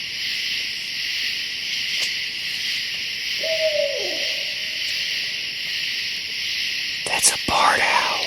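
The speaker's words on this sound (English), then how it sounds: "That's a barred owl" Barred owl calling at night above a tent in Hoosier National Forest, a single faint, distant hoot over a steady chorus of crickets and insects, with a brief louder rustle near the end.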